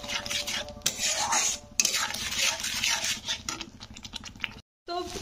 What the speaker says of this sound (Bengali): তো কাজু পেস্টটা দিয়ে একটু নাড়বো।